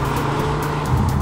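A Jaguar F-Type coupe sports car drives with a steady, loud engine drone and some road noise throughout the short stretch, with no talk.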